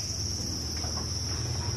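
A dense chorus of crickets at a cricket-breeding farm in Cirebon trills in a steady, continuous high buzz, loud and unbroken with no talking.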